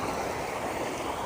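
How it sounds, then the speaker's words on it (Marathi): Heavy water pours over a small check dam in a steady, dense rushing roar, loud and close with no pause. "हे अशा प्रकारे या अशा रीतीने भरपूर पाणी वाहत आहे बघा"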